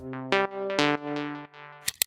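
A synth lead preset called Heater plays a short phrase of bright, sustained tonal notes with sharp attacks, heard alone at moderate volume and ending with a brief click.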